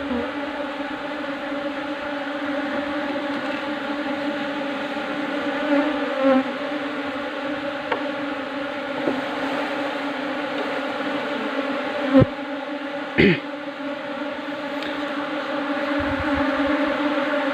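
Bees buzzing around their wooden cultivation hive box, a steady, dense hum of many insects close by, with a few faint knocks and movements.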